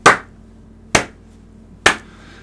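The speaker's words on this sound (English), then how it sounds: "You need a sound effect of one person clapping." A single hand clap sound effect played from a soundboard, three sharp isolated claps spaced about a second apart, each ringing briefly into silence.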